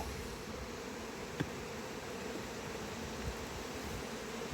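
Bees swarm around an open beehive during an inspection, a constant close, droning buzz with a couple of faint knocks of hive equipment and no talking.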